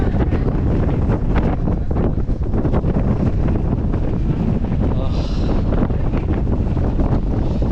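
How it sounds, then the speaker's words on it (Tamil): Strong sea wind at the Kodiyakarai lighthouse buffets the microphone in a loud, continuous low rumble with gusty swells throughout. "அது கடல் காற்று அப்படி அடிக்குது."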